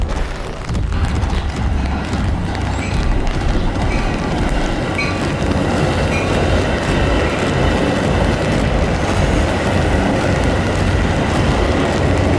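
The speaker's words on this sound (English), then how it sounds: "Here comes the train." A train rolls past close by in a steady, loud, continuous rumble with rattling wheels, heard outdoors on a rainy walk.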